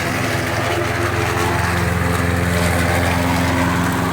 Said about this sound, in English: he is outside mowing